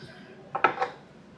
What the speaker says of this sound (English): let me get my chopping board and get started